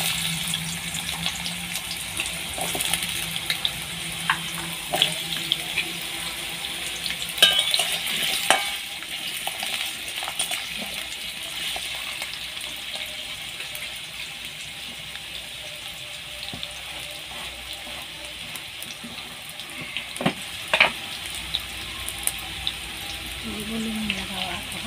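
Potatoes fry in a pan while being stirred in a Santali-style home kitchen, giving a steady sizzle with scraping, clinking stirs and occasional watery splashes throughout, fairly close with no talking.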